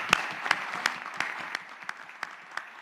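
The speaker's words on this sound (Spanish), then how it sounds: "les pido un fuerte aplauso" Sparse applause for the panelists at an artificial intelligence forum, a handful of separate claps spaced out over a few seconds, fairly faint against a quiet room.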